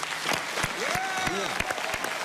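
A studio audience claps steadily for a couple of seconds on a talk show, a brisk close applause with a voice speaking over it.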